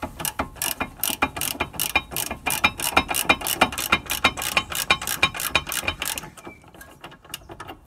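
Rapid ratcheting clicks from a wrench working loose the tight 19mm caliper bracket bolts on a Nissan Qashqai's front brakes, a steady close-up run of sharp metallic ticks lasting several seconds before trailing off, with no talking.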